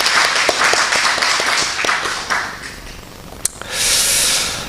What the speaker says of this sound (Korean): 그럼 찬양팀도 박수 한번 할까요?